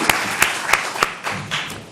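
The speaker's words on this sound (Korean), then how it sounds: "박수로 하나님께 영광 올려드리겠습니다." A church congregation applauds during a worship service: a few sharp, separate claps ring out first, then spread into a brief, steady patter of clapping from the room.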